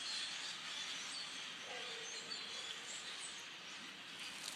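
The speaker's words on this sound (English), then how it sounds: "I don't know how loud the birds are on the video, but they're pretty darn loud here." Thousands of birds call at once near a shooting range, making a continuous high chattering din that fills the air at steady loudness and is heard alone, without voices.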